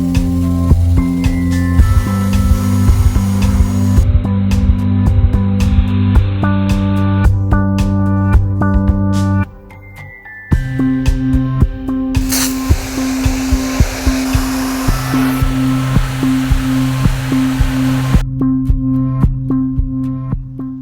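A STIHL electric pressure washer's motor runs with a steady, loud harmonic whine, cuts out for about a second midway, then starts back up and keeps running at full pitch.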